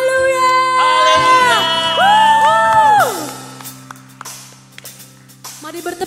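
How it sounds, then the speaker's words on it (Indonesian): Church congregation cheering and shouting hallelujah during an online Sunday worship service, loud overlapping voices and whoops that swell for about three seconds, then fade into scattered shouts and crowd noise. "Mari setiap kita yang percaya boleh sorakan haleluya."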